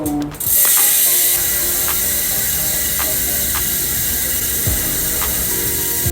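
Steady rapid mechanical ticking of a Hunt Trail Wide V2 bicycle wheel's freewheel hub ratchet, continuous and fairly close, with a soft hiss and faint rumble underneath.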